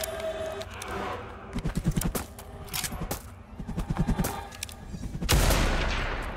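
Gunfire in the shooter Blood West, rapid bursts of shots in quick clusters, fairly close, ending in a louder booming blast that rolls on with a rumbling tail.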